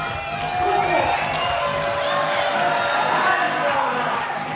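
A crowd at a bouldering competition final in Utrecht cheers and whoops steadily to urge on a climber, with an MC's amplified voice riding over the roar and a commentator talking throughout.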